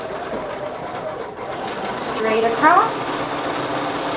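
A sewing machine runs a straight stitch along a quilt seam, its steady mechanical hum sitting low under a person talking, with a brief fabric rustle near the end.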